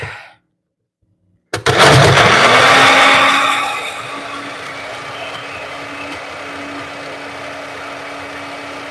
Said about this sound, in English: Okay, blender.